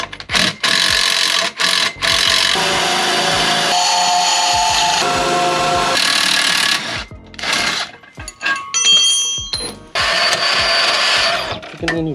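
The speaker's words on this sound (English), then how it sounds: "you're gonna cut off these lower bolts" Power sawing on the lower frame bolts of a 2021 Can-Am X3, a loud sustained rasping cut broken by short pauses and restarts, with faint voices near the end.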